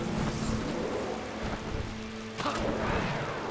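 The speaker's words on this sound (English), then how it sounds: "She casts Rain." A rain spell in a video game, a dense hiss of falling rain with a low rumble like thunder underneath, steady and close for a few seconds.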